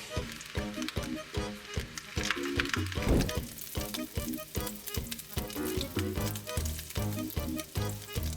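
Bacon strips sizzle and crackle in a hot pan, a soft continuous frying hiss over a steady low repeating thump.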